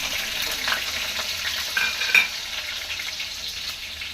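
Chopped onions and cumin seeds sizzle steadily in a hot pan, close and fairly loud, with a few light scrapes of stirring and no voices.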